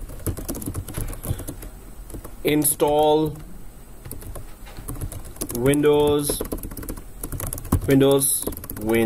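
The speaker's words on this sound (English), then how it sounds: "seriously, what's wrong with my typing?" Typing on a computer keyboard while setting up a virtual machine, a busy run of keystrokes under someone talking almost throughout.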